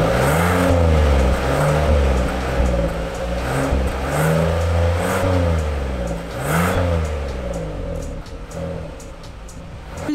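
A Hyundai Palisade with a 3.8 gasoline engine revs up and down through its exhaust in a series of rising and falling sweeps, a deep, steady engine note heard close and alone.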